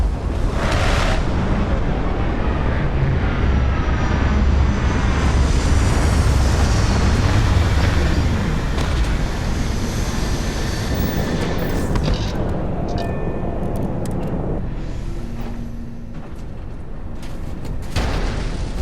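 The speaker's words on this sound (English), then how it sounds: "Landing procedure initiated." A spaceship touches down in Starfield with a long, loud, continuous engine roar and rumble. Toward the end it shifts to lighter mechanical clanks and tones as it settles; no speech.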